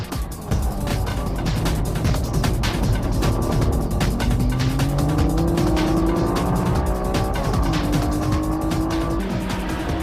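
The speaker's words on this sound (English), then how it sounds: "the NSXR, which only had its tires changed to slicks, was way faster than the others" A Honda NSX-R race car on slick tires races on track among other cars, with loud, close engine notes rising and falling through gear changes, streaks of tire squeal and passing cars throughout.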